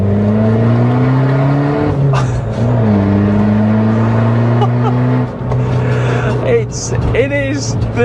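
A hot hatchback engine revs in third gear on a twisty road and holds a deep, throaty drone inside the cabin, pitch climbing and settling with gear changes, with some talking over it.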